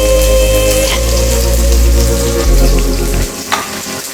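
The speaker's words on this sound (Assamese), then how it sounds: "পিঁয়াজ দি দিলোঁ" Onions frying in hot oil in a wok for an Assamese sour fish curry give a loud, steady sizzle up close, with light stirring scrapes, before the sizzle cuts off abruptly near the end.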